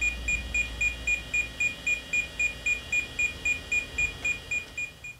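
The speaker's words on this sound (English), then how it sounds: "the beeping is in no way annoying" An old 8-bit ISA computer with a Paradise Basic VGA card beeps in a steady rapid series of short, shrill, evenly spaced tones, about fifteen in five seconds, alone and fairly loud.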